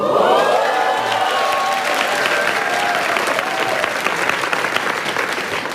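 Studio audience applause during a Korean news talk show, a loud sustained burst of clapping throughout that gradually thins, with scattered cheers.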